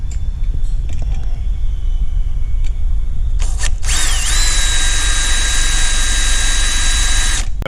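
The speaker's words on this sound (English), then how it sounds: "We got our bolt hole drilled." Power drill boring a bolt hole through a steel frame connector on a 1967 Nova, a loud steady close whine that rises into a sustained high pitched grind after a few seconds.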